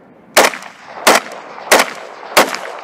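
Four loud, sharp rifle shots fired in steady rapid succession on a shooting range, about two-thirds of a second apart, each cracking sharply with a brief echo tail.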